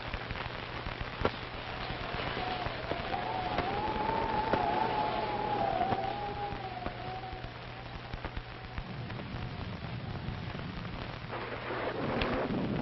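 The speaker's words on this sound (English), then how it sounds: "It's liable to rain all night." Rain falls steadily at night under a low rumble of thunder, with a thin whistling tone drifting over it midway and a louder rumble near the end.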